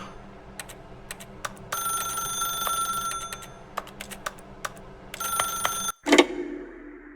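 A telephone rings inside the video game The Stanley Parable, with repeated bursts of bright electronic trilling alternating with short clicks, then a louder handling clunk as it ends, close and clear with no talk.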